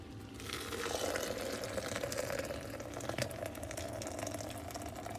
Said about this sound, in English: all you do is take the boiling water here, and you pour it in